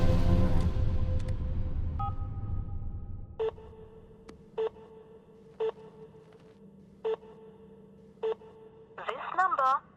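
A telephone dials a number: a few tones, then a row of evenly spaced short beeps, clear and alone, closing with a burst of warbling electronic tones.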